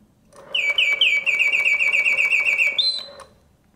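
A Reuge singing bird cage automaton in wonderful condition whistles a bright mechanical birdsong: quick repeated chirping trills in one continuous phrase of about two and a half seconds, ending on a higher held whistle, close and clear with no voices.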